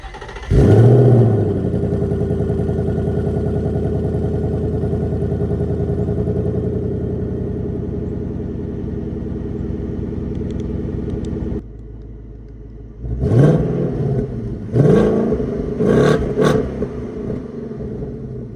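A Ford Mustang on its stock exhaust starts with a sharp roar, then settles into a steady, rumbling idle for several seconds before dropping off. A series of loud, quick revs follows near the end, heard alone.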